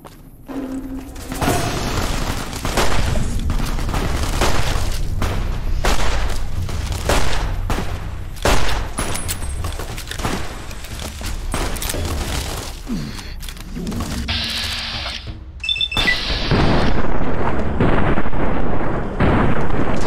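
Loud gunshots and heavy explosions from the video game Fallout: New Vegas arrive in repeated sharp cracks and deep booms, spaced unevenly over a sustained rumbling background.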